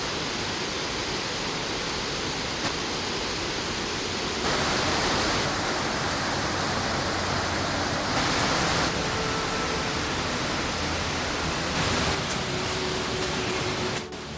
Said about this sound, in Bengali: দূর থেকে ঝর্ণার সাউন্ড কানে আসতে শুরু করে